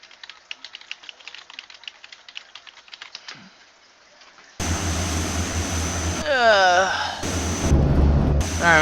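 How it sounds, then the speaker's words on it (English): De Havilland DHC-6 Twin Otter on skis taxiing in a flight simulator: light clicking first, then a loud, steady twin-turboprop engine drone that rises and swells, with whining tones sweeping up and down. "we'll taxi over back over by the lower base, and then we'll shut down and switch to the new one"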